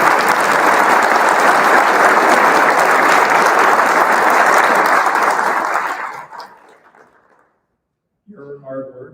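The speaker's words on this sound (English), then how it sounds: "I'd like to give them a round of applause" Sustained, dense applause from a ceremony audience for the event organizers at a physical therapy white coat ceremony, steady and loud for about six seconds before dying away, followed by a speaking voice.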